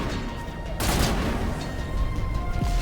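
A loud, sharp burst of sniper fire from a Geth trooper in the Mass Effect video game cuts in near the one-second mark. It is followed by sustained broadband gunfire noise that continues to the end.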